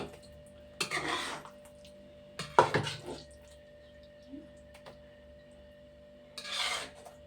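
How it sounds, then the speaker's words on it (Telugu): Cooked veg manchurian being spooned from a pan into a bowl, with a few scattered metallic scrapes and clinks over a steady low hum, close and fairly quiet. "ఇదిగోండి గిన్నెలోకి తీస్తున్నాను, దాంట్లోకి అండి"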